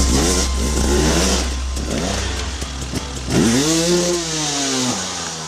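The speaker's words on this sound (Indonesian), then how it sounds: "Motor cross." A toy motocross motorcycle plays a recorded engine sound: loud, close revving that climbs and falls in pitch through several throttle bursts, with a buzzing engine note throughout.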